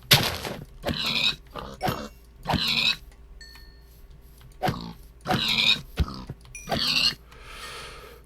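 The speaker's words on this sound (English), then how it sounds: "once I've finished butchering pigs" Repeated pig grunts and oinks from Minecraft with the Tektopia mod, several short bursts spaced across the stretch, fairly loud and close with no talk over them.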